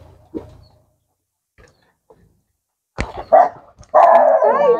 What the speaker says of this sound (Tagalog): Ay, aso. Saglit lang po, baka makagat tayo.